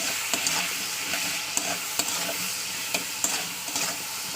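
Potato and bitter gourd strips frying over high heat with turmeric and salt, giving a continuous sizzle and regular sharp stirring scrapes of a spatula against the pan, close and without talk.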